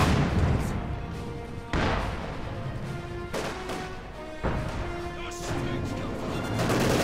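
Heavy booms and crashing impacts of a Panther tank firing up close in Company of Heroes 2, several loud shots spaced a second or two apart over continuous battlefield din.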